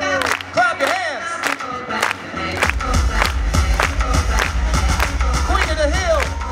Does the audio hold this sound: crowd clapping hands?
yes